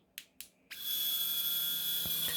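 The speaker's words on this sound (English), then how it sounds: "It is the G-Lite grinder, and this is a power drill, like a Dremel, and it's a stick, and it's very powerful" A G-Lite grinder, a stick-style Dremel-like power drill, gives a few short clicks, then switches on into a steady high-pitched whine that holds evenly to the end, close and fairly loud.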